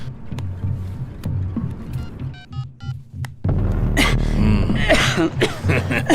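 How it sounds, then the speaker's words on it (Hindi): Coughing and throat-clearing sounds in a film scene, a few short sharp bursts early on, followed by a louder, dense stretch of noise. "आपको तो खांसी आने लग गई है"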